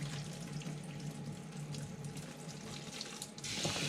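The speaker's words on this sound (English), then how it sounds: "You want to put some clean water through that," Running tap water rinsing CPAP equipment parts in a sink, a close, steady splashing stream that grows louder and brighter near the end as the flow hits harder.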